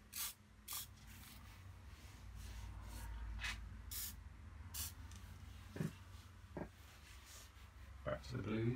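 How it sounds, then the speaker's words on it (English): Short hissing bursts of a spray bottle misting a watercolour painting, several quick puffs spaced irregularly and close by, over a low steady background hum. "Might even give that a little spray."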